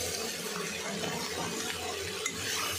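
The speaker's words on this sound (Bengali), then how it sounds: "এদিকে পেঁয়াজ কলিটা চিংড়ি মাছ দিয়ে খুব সুন্দর করে গাজর দিয়ে ভাজি" Onion stalks stir-fried with prawns and carrot in a pan, a continuous dense sizzle with soft scraping, steady and unbroken, no talk.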